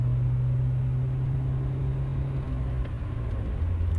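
A 1980 Porsche 924 Turbo cruising on open country roads, heard as a steady low engine and road drone from inside the car, continuous and fairly loud with no talking.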